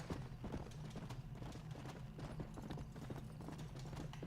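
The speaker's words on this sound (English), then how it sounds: "Horse! Get over here." Horse hooves clip-clop steadily in Red Dead Redemption multiplayer, a brisk, even gait that is quiet and continuous with no talking.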